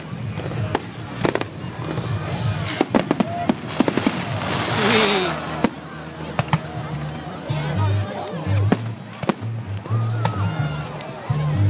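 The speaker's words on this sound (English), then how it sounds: "Worcester fireworks." Fireworks display at Pitchcroft in Worcester, with repeated sharp bangs and crackling bursts spread across the outdoor scene, some loud and close, mixed with crowd noise and people talking nearby.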